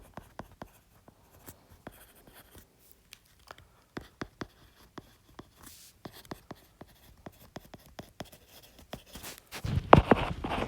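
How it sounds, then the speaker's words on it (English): A pen writes by hand on paper while math homework on one-to-one functions and ratios is worked out, giving close, quiet scratches and taps in irregular bursts, with a louder rustling scrape at the end and no talking. "So let me just write that down again."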